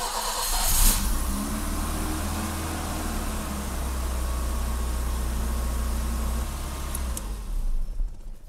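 A 39-year-old BMW E30 car engine cranks and catches, then settles into a steady, loud rumbling idle with some hiss, running close by with no speech.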